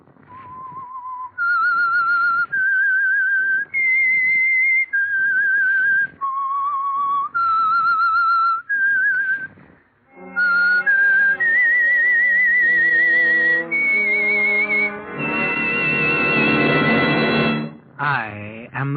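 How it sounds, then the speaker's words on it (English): Whistled theme signal for the old-time radio mystery program The Whistler, a lone melodic whistle rising and falling in held notes, then swelling into a fuller orchestral passage with strings toward the end. "That whistle is your signal for the Signal Oil program"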